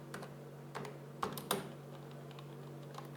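Code typed on a computer keyboard in a Python and Kivy project, a few close, light key taps with two louder clacks partway through, over a steady low hum.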